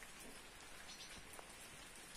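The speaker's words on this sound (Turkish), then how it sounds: "Sabahtan beri bu şekilde yağmur yağıyor arkadaşlar." Steady rain falling in a village, a dense even patter of drops on surfaces that continues without a break and without voices throughout.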